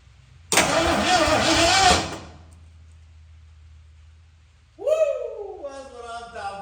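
A 1972 Ford F-100 cranks and fires with a loud burst, then settles into a low idle; a second, higher revving swell follows near the end, with no talk.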